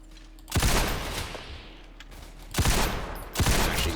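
Loud, close automatic gunfire bursts in the Roblox war game Entrenched, three separate volleys with short pauses between them and no talking.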